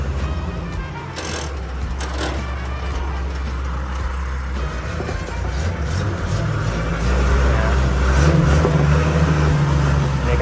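Sakai T2 seven-tyre road roller moving in first gear, its diesel engine a loud, steady close rumble that builds to a heavier drone in the last few seconds, with no talking.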